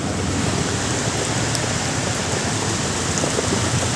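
Steady rain falling close by, a dense, even hiss that holds at the same loudness throughout with no voices.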